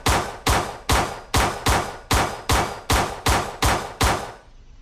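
Pistol gunshots fired in a video game ring out as about eleven loud, sharp, evenly spaced reports, each with a short decaying tail, with no talking.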